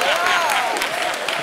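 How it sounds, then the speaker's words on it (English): Brief burst of clapping in the South African parliament during a budget debate on environment affairs, sport and recreation, short and fairly loud with a voice or tone faintly running beneath it. "I would like to get a round of applause for that."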